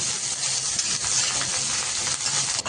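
Chopped onion sautéing in hot oil in a pan, a steady dense sizzle with no talking and only slight fluctuations.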